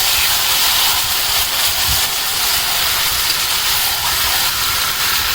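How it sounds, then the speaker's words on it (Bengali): Marinated chicken hits a hot pan and gives a loud, continuous hiss of sizzling and steam that stays steady throughout, with no voices. "এবার আমি চিকেনটা দিয়ে দেবো।"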